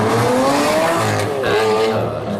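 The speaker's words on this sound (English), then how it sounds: "The first Liberty Walk Lamborghini Aventador in Europe" A Liberty Walk Lamborghini Aventador, the first in Europe, revs its engine hard in two rising bursts with a brief dip between them, loud and close.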